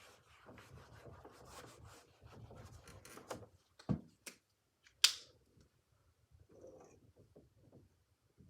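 Erasing writing on a board during a chemistry lecture. It comes as short dry rubbing and scraping strokes and a few sharp taps, with faint talk early on and near silence between the strokes.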